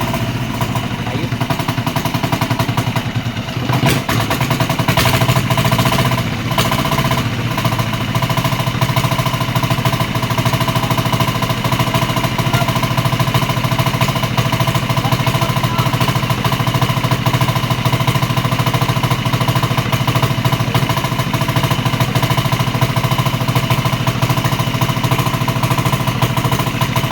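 A newly bought engine being test-run, its steady mechanical drone and clatter running continuously and fairly loud, with a brief change in texture near the start.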